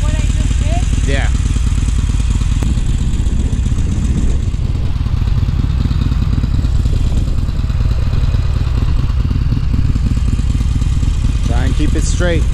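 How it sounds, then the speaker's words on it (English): A motorcycle idles low and steady while the rider walks the bike in the clutch friction zone, a constant engine rumble up close with voices talking over it. "So stay in the friction zone and walk the bike."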